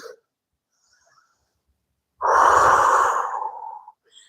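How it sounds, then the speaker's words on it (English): A single deep, audible exhale during a yoga session, close and breathy, rises suddenly and tapers away over a second or two after near silence. "So we inhale deeply. Exhale fully."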